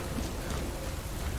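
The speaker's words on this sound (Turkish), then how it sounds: "Yağmur başladı." Rain falls steadily in the Death Stranding video game, a dense even hiss over a short stretch with no other sound standing out.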